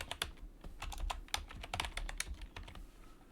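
A student's name is typed on a computer keyboard as a quick run of close, crisp key clicks with short pauses, no voices over it.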